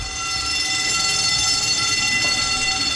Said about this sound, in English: So the fire alarm just went off